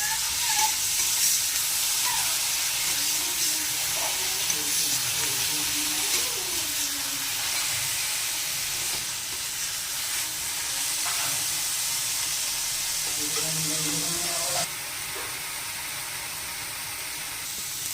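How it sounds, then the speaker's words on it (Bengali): Onion paste made from two medium onions fries in a pan, a steady close sizzle and hiss with occasional stirring scrapes running continuously throughout. "এবার পেঁয়াজগুলো হালকা করে ভেজে নিয়েছি"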